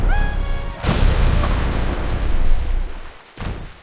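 A loud bomb explosion erupts in a short comedy sketch set at sea: a sudden broadband blast that cuts off a fading tonal sound, followed by a sustained roaring rumble. A second smaller burst hits near the end.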